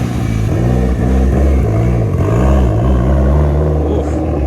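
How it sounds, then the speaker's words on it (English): A Ford Focus ST's turbocharged engine is run hard on a dyno, roaring loudly through repeated rising and falling revs that swoop up and down in quick cycles before settling into a sustained high drone. "That turbo spool is insane."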